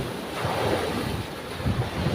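Ocean waves surge and wash continuously in rough seas, mixed with strong wind rumbling against the microphone, loud and close, heard from a boat.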